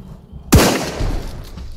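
A single sharp gunshot in the zombie survival game Night of the Dead, a sudden loud crack with a booming low thump, followed by a softer secondary impact and lingering rumble.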